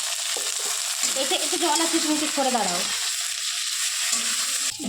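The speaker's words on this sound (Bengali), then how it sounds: "এদিকে কাজু বাদাম ভাজা চলছে" Cashew nuts frying in a pan on a home stove give a steady, close hiss with stirring scrapes, while people talk over it through most of the stretch.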